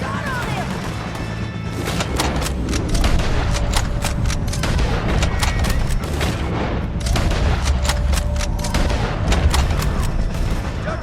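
Shootout gunfire in Red Dead Redemption 2, a rapid, loud barrage of sharp cracks and booms firing in irregular bursts over a dense rumbling background, with voices shouting amid the shots.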